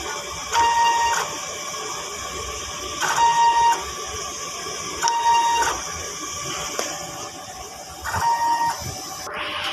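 A DTF printer whirs steadily while repeated short electronic beeps and mechanical shuttling sounds recur every few seconds during a print head cleaning cycle.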